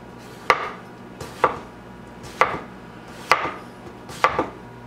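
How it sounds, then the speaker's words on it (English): A knife slices cucumber and other washed vegetables thin on a board, five crisp chops landing at a steady, unhurried pace, each one close and distinct with no talk over them. "Just going to slice these very thin. Same thing with the cucumber."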